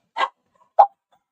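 Two short, sharp dog barks roughly half a second apart, fairly close and loud, with near silence between and after them.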